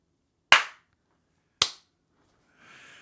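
Two sharp, loud hand claps about a second apart in a quiet room, followed by a faint hiss.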